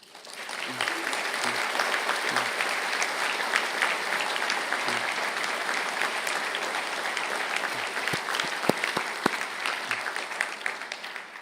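A graduation ceremony audience for forensic science honours graduates gives steady, even applause, swelling quickly and holding at a full, dense level, with a few louder claps near the end.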